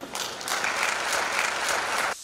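A television talent show audience at a grand finale applauds contestant Avtar Singh in a loud, dense round of clapping lasting about two seconds before stopping sharply.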